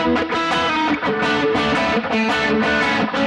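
An electric guitar played through an overdrive pedal at a high-gain setting gives a gritty, saturated tone in quick picked phrases with short gaps between notes, loud and close.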